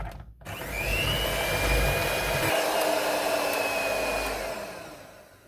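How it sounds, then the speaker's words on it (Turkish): Electric mixer running at high speed whipping cream for a Turkish layered dessert, a steady loud motor whine with a rising tone that starts after a brief pause and holds for several seconds before tapering off. "Daha sonra yüksek devirde katı bir kıvam alıncaya kadar çırpacağız."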